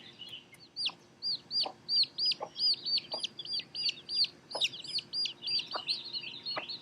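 A little black hen clucks softly and repeatedly to a brood of newly hatched chicks outdoors, with high chick peeps and chirps scattered throughout and her low clucks recurring in a steady rhythm.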